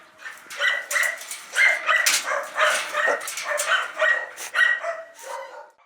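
Stray dogs held in shelter enclosures on the grounds of a former factory bark and yip continuously, several voices overlapping in a dense, fairly close chorus with no talk.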